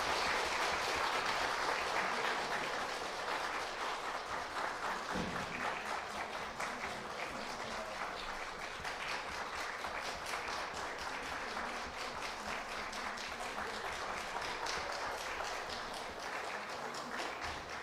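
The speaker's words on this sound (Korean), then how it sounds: "우리 박수로 환영하도록 하겠습니다." A church congregation claps to welcome newly registered members during an Easter service, a steady wash of applause from many hands filling the room and continuing without a break, moderately loud at first and easing slightly toward the end.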